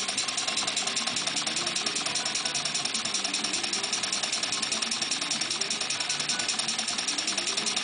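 Small model steam beam engine with a flyball governor, run slowly on compressed air, giving a steady, even, rapid mechanical clatter and chuff that repeats throughout at a constant moderate level.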